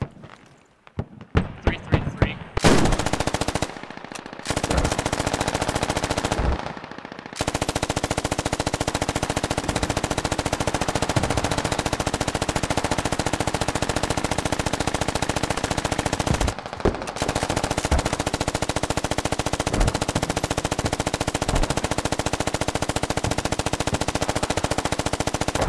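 Rapid bursts of automatic gunfire and single shots crack through a firefight in the military shooter game Squad, some loud and close, others sustained, with players talking over the battle.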